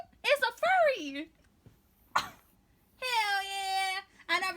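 A person imitates a cat's meow over an online video chat, giving several drawn-out, wavering vocal meows separated by short pauses, close to the microphone.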